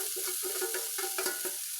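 Food sizzles steadily in hot oil in a pan while a utensil stirs it, giving bursts of scraping and louder crackles over a continuous close frying hiss, with no talking.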